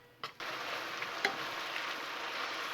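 Sliced steak meat for beef enchiladas fries in a pan with a steady, moderately quiet sizzle, punctuated by a couple of sharp clicks of a utensil against the pan.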